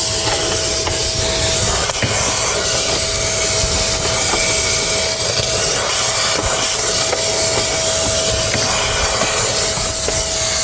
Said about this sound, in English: I'm gonna get the vacuum and vacuum any kind of dirt that's in there